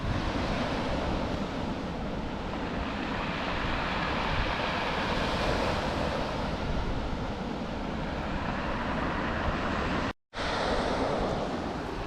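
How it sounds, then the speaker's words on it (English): Continuous rushing surf on a pebble beach in Scotland with a gritty, rattling wash as waves drag stones back and forth, steady and close, with wind noise. "You can hear them pulling the pebbles and pushing them."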